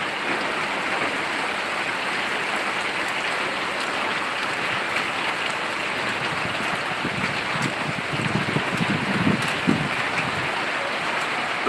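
Steady hiss of heavy rain pouring down in Sirajganj, Bangladesh, after a heatwave, with gusty wind noise and some low rumbling near the end.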